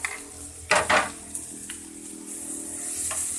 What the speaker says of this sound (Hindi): हमने पैन में जो है 2 टेबल स्पून कुकिंग ऑयल डालना है और उसमें हमने ये बारीक कटी हुई प्याज डालनी है